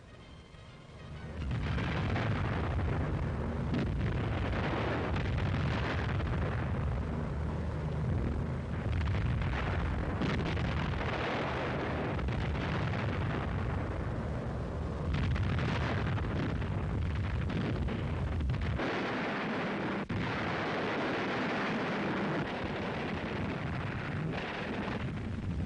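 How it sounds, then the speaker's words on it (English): Bombs exploding during a 1945 WWII bombing raid on Italy, aimed at German rail yards and supply dumps: a loud, continuous roar of overlapping blasts and rumbling detonations that runs the whole length with only brief dips, and no voices. "Ahead went the bombers in overpowering force to destroy German rail yards, troop concentrations, fuel and supply dumps."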